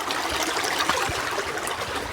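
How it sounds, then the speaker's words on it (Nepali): Dirty water trickles and flows along an outdoor drain, a steady close burble with no voices. "पानीको फोहरा पानी बगिरहेको छ"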